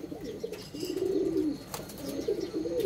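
A pigeon coos nearby in repeated rolling, throaty phrases, fairly close and clear, with faint background rustle and no speech.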